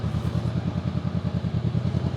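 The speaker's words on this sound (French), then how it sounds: "Moi, j'aime bien la petite moto." A small motorcycle engine runs steadily nearby with a fast, even low thumping pulse and a slight clatter, and no voices.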